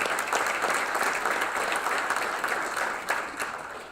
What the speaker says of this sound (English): let's give them a round of applause too for coming